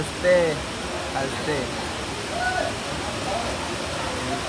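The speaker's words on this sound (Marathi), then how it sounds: "पाऊस बघा किती जोरदार लागलाय" Steady hiss of heavy rain pouring down, with people's voices talking intermittently over the downpour.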